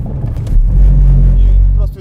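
An Audi RS3 accelerates through a turn, its engine swelling into a loud, low, steady rumble that fades near the end, with a voice speaking briefly at the start and finish.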